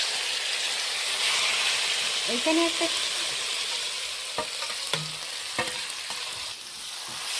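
Spiced shrimp wrapped in ash gourd leaves goes into smoking-hot oil in a kadai, sending up a loud, steady hiss and sizzle with sharp stirring clinks, and a brief word spoken over it.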